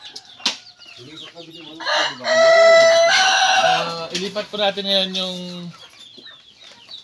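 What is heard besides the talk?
chickens clucking and flapping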